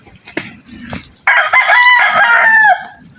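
Sweater white-leg stag gamecocks crow loudly and close, one long drawn-out crow following a couple of short clucks, with no talk over it.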